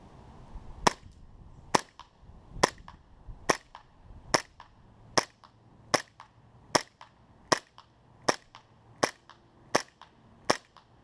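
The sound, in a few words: ASG CZ P-09 airsoft pistol firing ten shots at target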